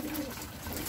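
Racing pigeons coo softly at close range, a short low burbling call over faint background noise.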